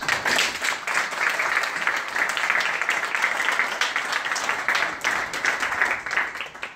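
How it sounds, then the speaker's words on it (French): An audience at a Maronite eparchy ceremony in Meudon breaks into applause, a dense, steady clapping held for several seconds at moderate loudness with no voice rising above it. "On l'applaudit."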